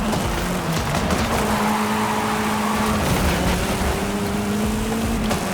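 Ford RS200 Evolution race car engine at full throttle in Forza Horizon 5, a steady loud droning roar with shifting tones and no pauses throughout.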